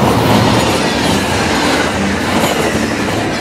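A train rumbles past close by, a loud steady roar of wheels and cars with a faint rhythmic clatter throughout.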